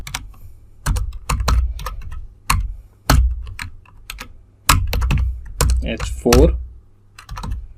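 Quick bursts of keystrokes on a computer keyboard as HTML header tags are typed, clicking in uneven runs close to the mic while someone talks over them.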